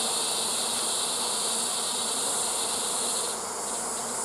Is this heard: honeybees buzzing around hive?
yes